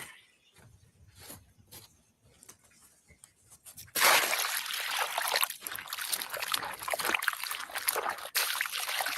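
Water is added to clay, first a few faint dribbles and drips, then a louder, continuous splashing and sloshing that keeps going to the end.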